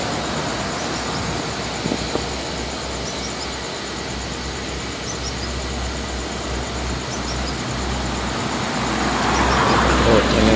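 A Pajario Wisata tour bus travels a highway toward Dumai, a steady roar of engine and tyre noise that swells slightly at the end, with other traffic rumbling around it and no clear talk.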